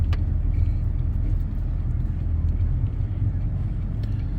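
1998 Dodge Dakota truck with a misfire on cylinder 1, engine running after a MAP sensor change: a steady, close, low rumbling idle that continues throughout.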